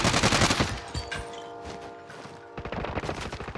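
Gunshots in a shooter video game: dense, close automatic fire rattling in rapid bursts, easing briefly to a quieter stretch before another fast, loud volley.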